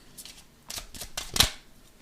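A deck of oracle cards being cut, a quick flurry of soft papery riffles and slaps ending in one crisper snap, close and brief.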